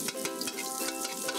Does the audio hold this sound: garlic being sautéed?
yes